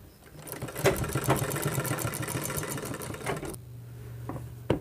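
Sewing machine running steadily as it stitches a pocket onto cloth, a continuous close mechanical whirr with fast needle rhythm that cuts off near the end, followed by brief clicks.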